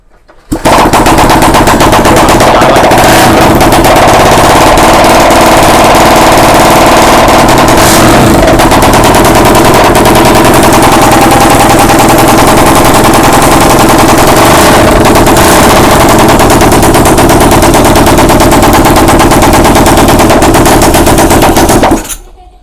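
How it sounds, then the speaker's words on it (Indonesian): A Honda Supra X 2001 motorcycle fitted with a Daytona engine revs loud and close in a continuous rapid staccato roar, running without a break for over twenty seconds. "Jadi itu kekuatan mesin 190"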